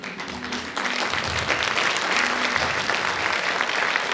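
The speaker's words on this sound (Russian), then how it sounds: "Даже зал аплодирует." A hall audience at a student spring festival show bursting into applause, a dense, loud wash of many hands clapping that swells after a quieter start and holds steady throughout.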